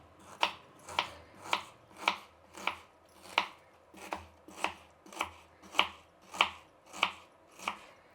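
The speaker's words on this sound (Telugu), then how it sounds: "ఎర్రగడ్డలు కట్ చేసుకుందాము." A knife chops small red onions for pepper chicken fry in steady, evenly spaced strokes, about fourteen crisp, close cuts at a relaxed pace with no talking.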